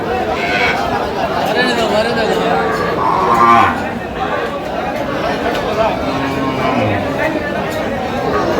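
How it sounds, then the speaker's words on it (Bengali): A cow with her calf moos loudly at a busy rural cattle market in Bangladesh, the low drawn-out calls rising over steady crowd chatter and nearby voices. "গাভি বাছুর আমরা দেখছিলাম এখানে"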